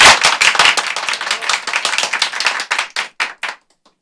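Hands clapping close and loud in a studio talk show, a quick burst of applause that thins into a few sharp separate claps and then stops.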